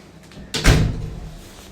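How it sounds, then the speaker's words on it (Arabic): A door being opened indoors, a single sharp knock-like impact followed by a short creaky rumble, fairly close and loud, with no talk over it. "افتح الباب افتح الباب"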